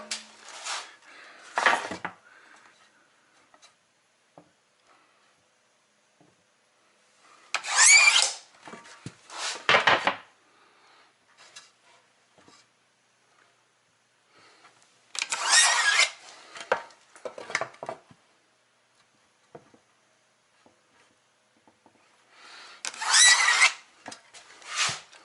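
A drill drives screws through drywall sheets into studs during a kitchen renovation, coming in four separate short bursts of whirring and grinding with quiet pauses between them.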